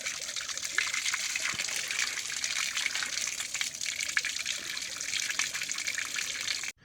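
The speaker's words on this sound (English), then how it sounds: "then you're just gonna wanna turn on some water and rinse out the inside" Water from a tap gushes steadily while crayfish are rinsed out to clear the gunk from inside, a close, continuous splashing flow that stops abruptly at the end.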